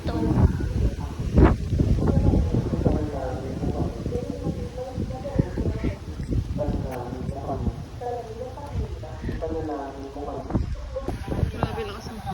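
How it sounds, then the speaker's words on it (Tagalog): Strong typhoon wind buffets the microphone with a continuous low roar while a person talks over it throughout. "Sobrang lakas po ng hangin dito."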